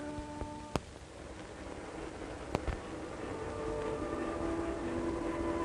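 A steady low rumble of a Denver and Rio Grande Railroad train rolling along the rails, with a couple of sharp metallic clanks and a faint hum beneath.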